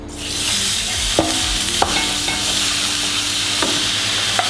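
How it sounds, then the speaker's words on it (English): Water sizzling hard as it hits a hot pan that just browned beef, a steady loud frying hiss with a few sharp clanks of a utensil scraping the pan. "we're just going to swoosh that pan out with a little bit of water"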